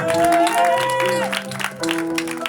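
At an Easter crusade church service, a congregation claps and acclaims Jesus. Loud applause mixes with sustained sung or chanted voices, which dip briefly midway before swelling again.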